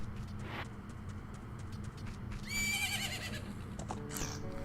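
Rhythmic hoofbeats clop steadily, then a horse lets out a loud whinny partway through, over a low background hum, from the video game The Legend of Zelda: Majora's Mask.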